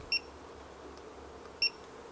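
A Hioki multimeter gives two short, sharp high-pitched beeps about one and a half seconds apart during a measurement, clear against a quiet room with no talking.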